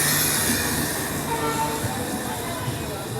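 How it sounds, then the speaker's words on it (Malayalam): The Kashi Express rumbles steadily at a station platform nearby with a low, even hum, and faint voices in the background. "കാശി എക്സ്പ്രസ്സാണ് അപ്പുറത്തെ പ്ലാറ്റ്ഫോമിൽ കിടക്കുന്നത്."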